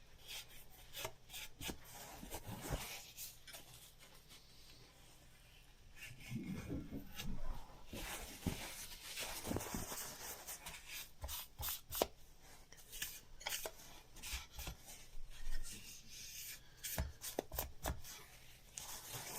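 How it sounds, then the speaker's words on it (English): A small tool or brush scrapes dirt off the mating surface of an Arrma RC car chassis where the bulkhead sits, making faint, scratchy, intermittent rubbing and ticking sounds close by. "Just cleaning some of the dirt off the mating surface where the bulkhead sits on the chassis."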